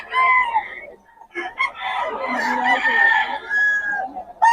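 Chickens cluck and crow loudly and close at a market where roosters and hens, including a solid black hen, are offered for sale, with overlapping calls and a brief lull near the start.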